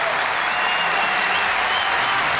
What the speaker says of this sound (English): Round of applause, keep the applause going